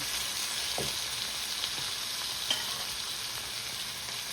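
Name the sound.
sautéing ingredients in a pan for chicken puttu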